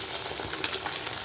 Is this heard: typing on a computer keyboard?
no